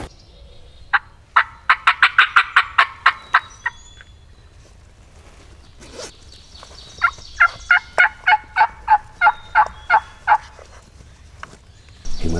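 Two rapid, rattling gobbles from wild turkeys in Wisconsin ring out in quick series, the first louder and nearer, the second slightly fainter, over quiet outdoor background.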